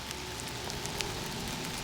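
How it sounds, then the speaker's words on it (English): Rain patters steadily on a surface nearby in windy weather, scattered drops ticking over a soft, continuous wash of noise. "Windy and rainy now."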